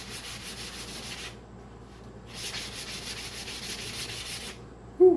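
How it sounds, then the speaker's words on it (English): Sandpaper on a sanding block rasps back and forth along a wooden axe handle in two long, close strokes separated by a short pause, ending with a sharp knock. "now we're going to take some sandpaper and give it a once over."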